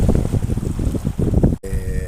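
Strong gusts of wind buffet the microphone in a loud, continuous low roar that surges and eases, briefly cutting out near the end before resuming.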